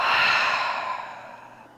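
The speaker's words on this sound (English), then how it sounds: "Full breath out." A single full exhaled breath, soft and airy, starting strong and tapering off over about two seconds, close to the microphone.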